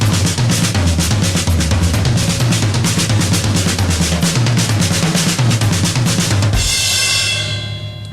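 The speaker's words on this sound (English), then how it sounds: "let's just take the accents and place them around the toms to create other rhythms" Drum kit with accented strokes moved around the toms in a fast, driving metal-style pattern, loud and close, ending on a crashing cymbal that rings out.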